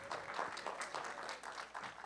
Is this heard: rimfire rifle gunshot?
no